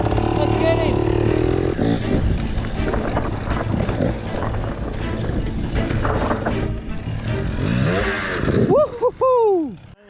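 A KTM 300 two-stroke dirt bike revs and buzzes along mountain bike trails, its engine loud and close at first and then pulling away, while a rider whoops and shouts over it near the end.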